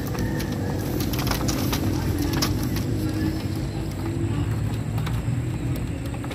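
Racing pigeons released outdoors, with soft bird calls and coos scattered over a steady, fairly loud outdoor background of rustling and ambient noise, no clear speech.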